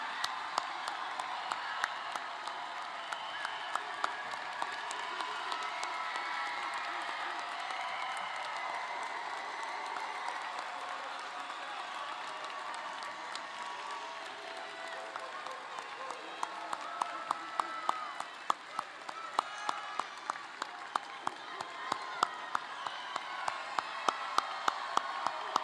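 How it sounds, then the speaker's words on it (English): Graduation crowd at a high school ceremony cheering and applauding across a large hall, a steady wash of clapping and shouts with sharper claps growing louder toward the end. "Now you can cheer."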